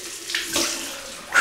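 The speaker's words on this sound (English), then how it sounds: "Cold water rinse." Cold tap water runs for a rinse at a bathroom sink during a wet shave with a vintage British Culmak shaving kit, a steady close hiss with brief louder surges as hands move through the stream.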